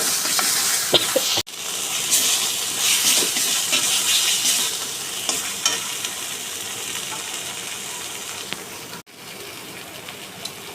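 Spice paste being stir-fried in a pan for a prawn and soybean curry, a steady loud sizzle with scraping and stirring throughout, with no talking.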